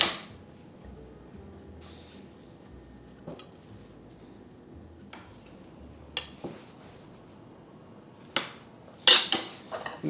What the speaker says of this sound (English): So I don't want to use my knife. I want to use my bench scraper.